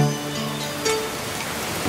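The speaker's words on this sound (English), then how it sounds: "It's starting to rain," Steady rain falls in a dense, even hiss of drops hitting a surface, with a faint tonal backing and no voices over it, in a children's cartoon nursery rhyme.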